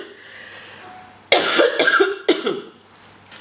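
A woman coughs in a burst of several loud, close, rasping coughs, a pause, then a second shorter burst, after quiet room tone.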